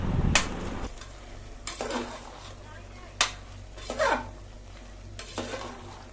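Raw prawns tossed with salt, red chili powder and turmeric for biryani, several separate scraping and clinking stirs against a metal bowl, close and intermittent with quiet gaps.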